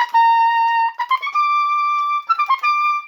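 Scheherazade passage played on a melodic instrument with the last note of each group held long, a clear solo line with short note clusters resolving into sustained tones, alone with no talking.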